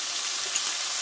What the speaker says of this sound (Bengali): দিয়ে একসঙ্গে মশলাটা ভালোভাবে কষে নেব আমি।